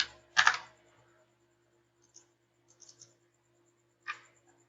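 A few computer keyboard key presses while a Java Selenium timeout value is entered, one sharp clack then scattered light taps and a final press, close and isolated against near silence.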